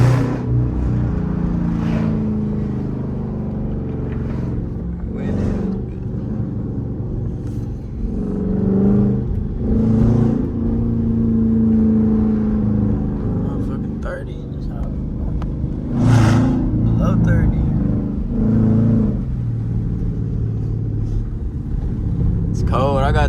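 A 5.7 Hemi V8 pulls through errands with the sunroof open, its deep rumbling exhaust swelling and falling as it revs while driving, loud and close, with someone talking over it.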